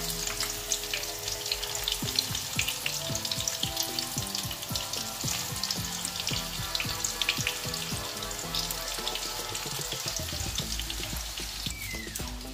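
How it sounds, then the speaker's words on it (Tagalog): Kangkong (water spinach) chips fry in hot oil with a steady, dense sizzle and crackle, scattered pops and a few clinks of utensils, close and continuous without talk. "So, prito-prito lang muna tayo dito."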